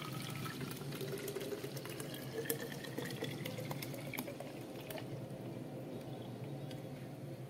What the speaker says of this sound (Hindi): अब अपन इसको पानी से फुल भर लेंगे